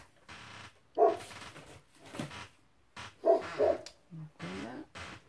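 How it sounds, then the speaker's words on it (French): Golden Retriever barking outside, heard from indoors: several separate barks and yips of moderate loudness come in short bursts with gaps between them. "Ça, c'est mon Golden Retriever qui aboie dehors."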